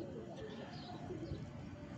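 Soft, low cooing of pigeons, faint and repeated against a quiet background.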